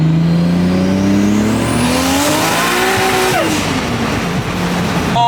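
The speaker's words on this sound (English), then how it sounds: "It sure sounds like a Supra, doesn't it? Oh yeah. The exhaust makes it." A built Toyota Supra engine revs hard through its exhaust, a loud sustained roar that climbs steadily in pitch, dips briefly, then rises again close by, with a little tire noise and no talk.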